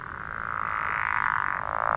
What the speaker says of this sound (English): the pickerel frog, which sounds kind of like a low growl